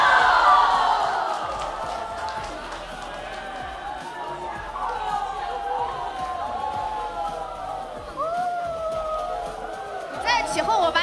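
A live crowd at an SNH48 Team HII fan event cheers, whoops and heckles, with loud overlapping voices and excited shouts rising and falling.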